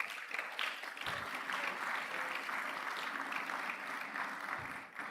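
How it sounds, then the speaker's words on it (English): Sustained applause fills a graduation ceremony hall for the Lagos Business School executive programmes, a dense steady wash of many hands clapping at moderate distance, with faint speech underneath. "You may give yourself a round of applause."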